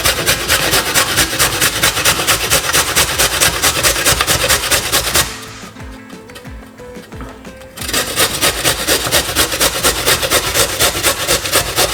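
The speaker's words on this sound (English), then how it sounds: "So first thing is grate some carrot." Carrot grated by hand on a grater for a salad, a fast, steady rasping rhythm of close scraping strokes, pausing for about two seconds midway before resuming at the same brisk pace.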